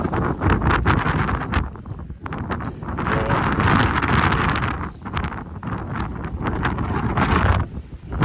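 Strong gusts of wind buffet the microphone in a continuous, rushing roar that swells and dips, with no voices heard, in the UK.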